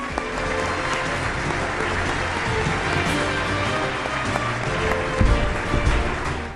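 An audience at a film award ceremony gives sustained, dense applause honoring director Eva Landeck's career, a steady wash of many hands clapping with a slight swell near the end.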